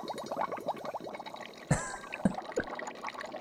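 Hydrogen gas is shot into soapy water, giving a rapid run of bubbling, gurgling pops up close, followed by a few sharper isolated splashes and plops.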